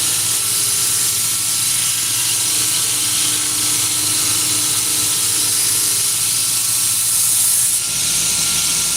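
A knife being sharpened on a grinder, a steady loud hissing whir that runs unbroken throughout, with a slight shift in tone near the end, close and with no voices.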